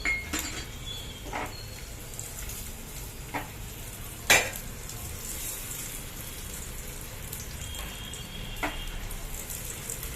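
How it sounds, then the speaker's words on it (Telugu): Cashews and raisins fry in a pan for a sweet wheat rava prasadam, with a steady low sizzle, a few soft stirring scrapes and one sharp metallic clink near the middle. "జీడిపప్పు వేస్తున్నామండి. కిస్మిస్ కూడా వేస్తున్నామండి."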